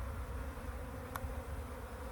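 Honeybees hum on a hive frame pulled from a breeder colony in Eastern North Carolina, a soft, steady buzzing of many wings close by with one brief sharper tick midway.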